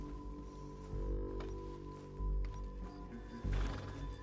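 A horse in Red Dead Redemption 2 snorts and shifts with soft hoof thuds on dirt, a few low dull impacts spread over a steady game ambience, moderately close.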